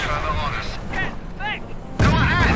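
Artillery fire in the World War II strategy game Company of Heroes: whistling incoming shells sweep overhead, then a heavy, loud blast bursts in and rumbles on to the end.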